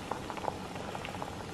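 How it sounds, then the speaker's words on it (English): Crabs boil in a pot of water, giving a faint, steady bubbling with scattered small pops, heard alone and close for a brief moment. "the crabs have been boiling for about 5 minutes or so"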